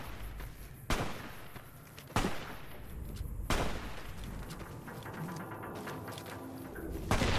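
Gunfire at a creature in Fallout New Vegas: four or five sharp, loud shots spaced a second or more apart over a rumbling game background, with no speech.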